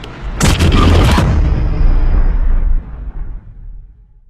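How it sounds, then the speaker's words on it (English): A massive atomic bomb explosion from the Oppenheimer trailer erupts as a loud, sharp blast, then rolls on as a long, deep roar that slowly fades away over several seconds. "The explosion of, I imagine, of the atomic bomb."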